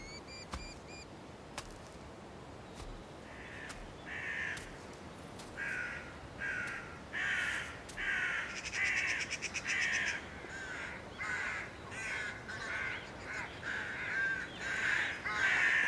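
Crows caw repeatedly in a snowy winter landscape, their harsh calls coming in uneven bursts that grow busier and closer over a faint outdoor hush.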